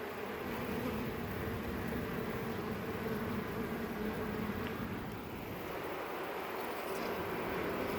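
A honeybee colony in an overwintered nuc hive hums loudly and steadily, a dense continuous buzz that fills the whole stretch without any talk.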